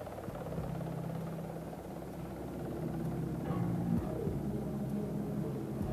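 A rescue helicopter hovering at night over a ship being abandoned at sea, a steady heavy engine and rotor drone that holds evenly throughout, with no voices.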